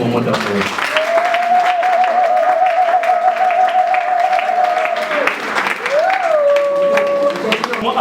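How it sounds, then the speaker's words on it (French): Audience applause at an evening dinner reception celebrating a couple, a dense steady clatter of clapping lasting several seconds while a sustained tone and voices run over it. "S'il vous plaît, un tonnerre d'applaudissements pour ce moment d'amour."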